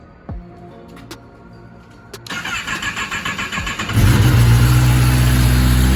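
A 2022 Kawasaki ZX-10R fitted with an M4 slip-on exhaust and a cat delete cold-starts after a few clicks and a cranking rhythm, then catches and settles into a loud, close, rumbling idle.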